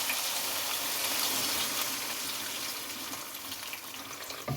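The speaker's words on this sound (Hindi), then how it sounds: "अब इसमें 2 गिलास गर्म पानी।" Hot water poured into a pot of beef masala on the stove, a steady broad splashing rush that continues for several seconds at moderate, even level with no talk.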